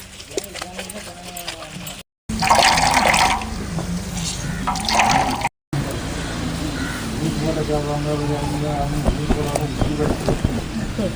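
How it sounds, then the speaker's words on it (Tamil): Water is poured onto ground coconut in a grinder to extract coconut milk for coconut halwa, giving a close, splashing, trickling flow broken by brief gaps, with a voice talking over it. "மறுபடியும் அதே மாதிரி தண்ணி வச்சு நல்லா ஆட்டி எடுத்துக்கணும்"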